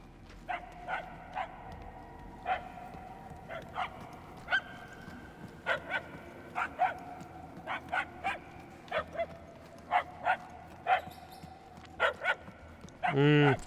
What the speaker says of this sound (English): I need to follow the sound of the puppy?